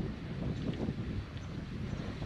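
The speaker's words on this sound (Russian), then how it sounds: "Сегодня ветрено, видите," Steady wind buffeting a microphone outdoors by a small river, a broad continuous roar with no pauses and no voices.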